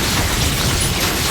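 A loud, brief blast from the Confringo spell in the Hogwarts Legacy video game fills the moment with a dense, roaring burst that stays harsh and full throughout.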